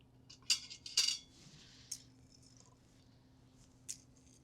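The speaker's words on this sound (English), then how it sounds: "we're gonna pull our eggs out and put them in our ice bath" Hard-boiled eggs lifted out of a pressure cooker and set into an ice bath: a few close metallic clinks and light clatters early on, then sparse soft taps against a quiet background.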